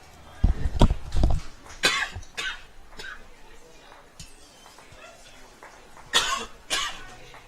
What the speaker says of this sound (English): Just got to sort out this cough so I can keep talking to you.